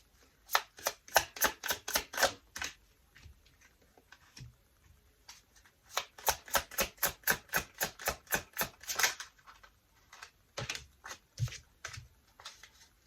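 Tarot cards are shuffled and drawn in quick runs of crisp, close clicks and flicks, with pauses between the bursts and a few softer taps.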